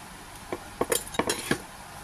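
A utensil mashing cooked dal against a metal pot produces a few light clinks and taps at an uneven pace, close up and fairly quiet, with no talking.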